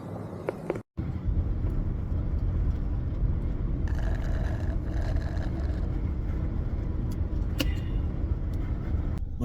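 Steady broadband rumble of cars in slow traffic, heard from inside a stopped vehicle, with a brief dropout near the start and occasional passing swells.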